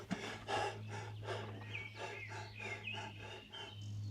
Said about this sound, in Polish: tylko ptaki słychać